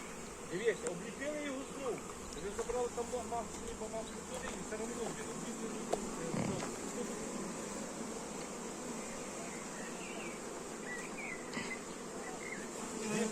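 Honey bees swarm around wooden hives at an apiary, making a dense, steady buzz close by that continues throughout.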